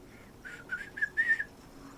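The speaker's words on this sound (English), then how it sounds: "I can whistle, yes. Not very well, but I can whistle." A person whistles a short, unsteady tune alone, with a few brief wavering notes that rise and fall at moderate loudness, no talking.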